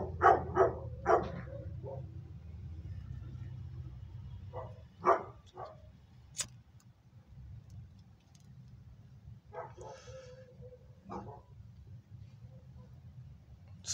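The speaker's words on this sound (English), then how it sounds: "Got dogs out here right now." Dogs barking outdoors in a few short bursts of yelps and barks, some nearer and some farther off, spread over a steady low background rumble with no talking.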